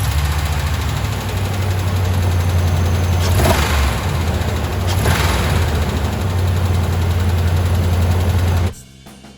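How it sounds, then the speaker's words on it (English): A Hemi engine with a stored error code idles steadily with a constant low hum and a faint metallic tick running through it, then cuts off abruptly near the end. "But this was the tick, the Hemi tick."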